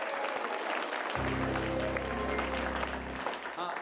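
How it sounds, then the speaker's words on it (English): Audience applause at a live improvised comedy show: dense, continuous crowd clapping throughout, with a low sustained tone partway through and voices mixed in near the end. "Give yourself a big round of applause for coming out to support live local improvised theater"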